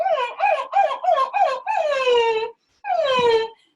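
A human voice imitates a puppy, giving a series of short, rising whimpers followed by two longer drawn-out whines, close and fairly loud.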